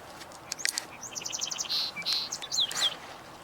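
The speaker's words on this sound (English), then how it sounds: "we just heard, oh, song sparrow" A song sparrow sings near a marsh among other chirping birds, giving a run of sharp notes, trills and buzzy phrases over a quiet outdoor background.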